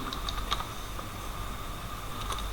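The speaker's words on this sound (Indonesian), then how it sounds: "Nah, ini contohnya Bapak ketik kompetisi" Keys tapped on a computer keyboard while typing out a banner headline for a class sports competition, a handful of light clicks spread in an uneven rhythm over a steady low background hum, with no talking.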